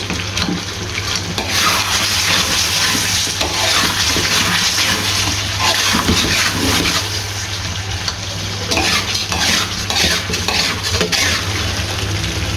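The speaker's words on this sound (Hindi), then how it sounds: "इसके अंदर हमने कुकिंग ऑयल ऐड करना है और इसकी हमने इधर 3 से 4 मिनट भुनाई करनी है" Chicken karahi with yogurt cooked nearly dry fries in added cooking oil in a karahi, a loud continuous sizzle and spatter with the scrape and clatter of a utensil stirring against the metal pan, close up throughout.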